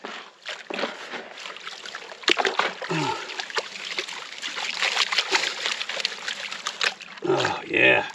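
A gold pan shaken vigorously back and forth and washed in water, steady sloshing and splashing close by with a louder rushing slosh near the end, no talking.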